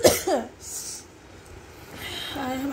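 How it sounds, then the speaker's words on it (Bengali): A woman who is ill with a hoarse throat gives a short cough, followed by soft throat noises and breathing, close up. "কাশিটা হচ্ছে"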